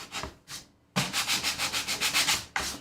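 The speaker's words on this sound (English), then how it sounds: "we use these sanding blocks because they're hard and heavy" A hard, heavy sanding block is rubbed over a painted surface in steady back-and-forth strokes: two short passes, a pause, then a rapid run of about a dozen rhythmic scrapes, all close and loud with no talking.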